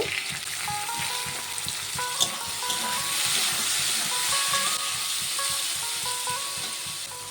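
Small cut pieces of paneer sizzling with softened onion in a hot pan, a continuous bright frying hiss with faint crackles and a few stirring scrapes, close and steady, no talking.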